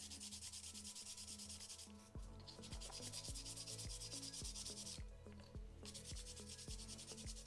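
Plastic scale model tank parts for a 1/35 Takom T-54B being sanded by hand, steady rhythmic rasping strokes, close and quiet, without talk.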